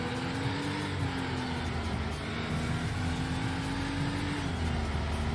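Turbocharged Porsche engine in the Need for Speed Porsche racing game, a steady sustained drone with a slowly rising and dipping engine tone, continuous and fairly loud with no voices.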